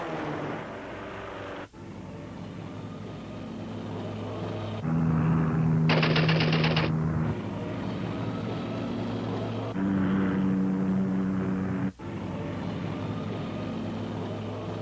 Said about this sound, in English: Armed with dual Vickers machine guns, the crafty Camel approached speeds of 120 miles per hour.